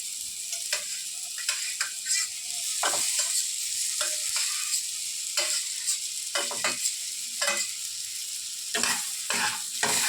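Sabudana khichuri with fried potol, peas and potato being stirred and fried in a pan, steady sizzling with repeated scraping strokes of the spoon throughout, close and fairly loud, no talk.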